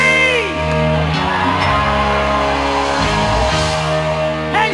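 A concert crowd at a tribute show screams and cheers loudly over sustained band music, the roar swelling and holding steady throughout.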